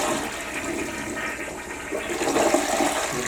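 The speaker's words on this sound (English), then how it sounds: "Let's flush it and see if it did any good." A toilet flushes after the bowl was treated with Lime-A-Way and The Works cleaner, a steady rushing, gurgling swirl of water lasting the whole few seconds, growing slightly louder toward the end.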